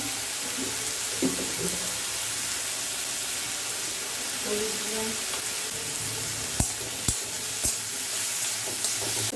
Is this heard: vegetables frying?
yes